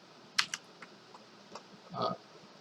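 A computer keyboard tapped while entering input for a program, giving a handful of sparse, quiet keystroke clicks with gaps between them, no voices.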